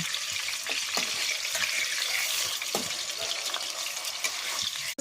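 Taro sizzles loudly in hot oil in a kadai while being turned over, a dense continuous frying hiss marked by occasional light scraping taps of the utensil.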